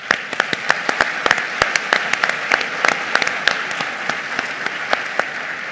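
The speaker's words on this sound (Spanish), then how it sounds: "Creo que se merecen también un aplauso." A university forum audience breaks into applause, individual sharp claps standing out clearly within a moderate, steady patter of many hands.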